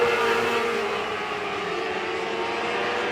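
Outlaw micro sprint race cars at I-30 Speedway roar as they take the green flag, a loud, continuous high-revving engine drone that stays full and steady throughout.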